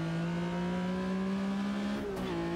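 Porsche RSR race car engine in Automobilista 2 racing game, a loud sustained high-revving drone that climbs steadily, then dips briefly near the end as the revs change, with no voices.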